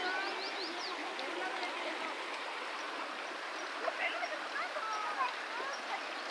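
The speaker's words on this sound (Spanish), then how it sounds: "Ahí está el agua corriendo." Clear water of a stream runs steadily through a rural ravine, a soft continuous rushing and bubbling at moderate distance with faint bird chirps and light voices over it.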